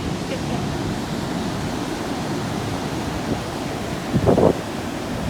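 Steady wash of ocean surf at a beach in St Augustine, Florida, where waves reach the foot of the stairs, with a continuous broadband roar, wind noise, and a brief louder splash or bump near the end.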